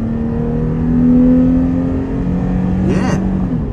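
A 2023 Toyota 4Runner TRD Sport's engine pulls under acceleration, a steady loud drone heard from inside the cabin with a brief rising whoosh near the end.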